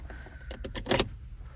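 Key for a 2025 Kia Soul being inserted into the ignition, a quick cluster of small metallic clicks and jingles close up, brief and alone in a quiet car interior.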